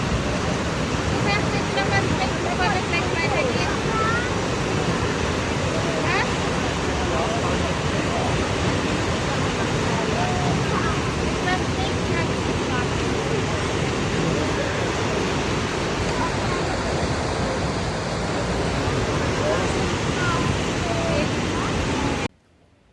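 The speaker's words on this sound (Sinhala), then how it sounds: "වතුර පාර ප්‍රෙෂර් එක වැඩි වතුර පාර සැර වැඩි" Loud, constant roar of a fast-flowing river current used for surfing in Germany, close by, a dense rushing wash with a voice faintly beneath it, cutting off abruptly at the end.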